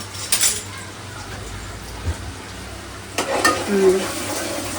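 Chicken masala frying in a pan while being stirred, a soft steady sizzle broken by scraping spoon strokes and clinks near the start and again in the second half, close and moderately loud with no talk.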